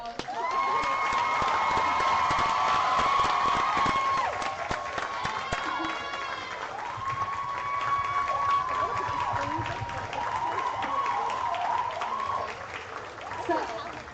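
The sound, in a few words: audience applause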